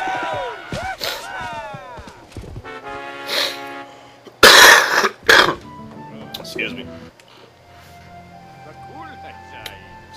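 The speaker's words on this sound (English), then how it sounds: "From the worst cough ever." A person recovering from a bad cough lets out a few sharp, loud coughs mixed with speech and game sounds, the bursts close and brief.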